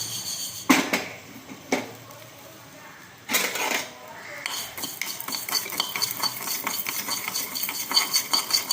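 A spoon stirs and scrapes garlic idli podi as it is lightly dry-roasted in a pan. A few sharp scrapes are followed by steady, close scraping and rattling, with a voice partly heard over it.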